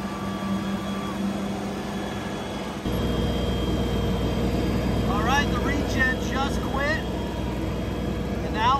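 A tractor engine runs steadily at high RPM during a regen cycle, a constant close drone that steps up in level partway through, with talking over it.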